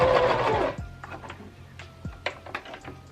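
A sewing machine running a test stitch on dress fabric, a short burst of mechanical whirring followed by quieter ticks and clicks close by.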